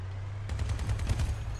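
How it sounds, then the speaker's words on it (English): Vehicle-mounted weapons, autocannons, firing in the game Crossout, a short quick series of rhythmic shots over a steady low engine rumble. "Start blasting away at him."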